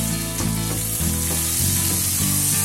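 Curry leaves and onions sizzle and fry in a pan, a steady close crackling hiss with a faint repeating tap of stirring.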